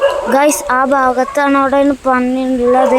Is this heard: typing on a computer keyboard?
no